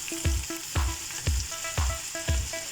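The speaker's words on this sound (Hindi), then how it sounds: "फ्राई करना है थोड़ी देर तेल में।" Two slit green chilies fry in hot oil with a steady sizzle. Five evenly spaced stirring strokes knock and scrape against the pan over it.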